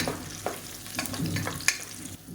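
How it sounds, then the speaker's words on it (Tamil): Chopped radish and green chillies sauté in hot oil for a kurma, a soft steady sizzle broken by a few sharp scraping stirs, close and moderately quiet. "இப்போ எண்ணெயிலே நல்லா வதக்கி விட்டுக்கலாம்"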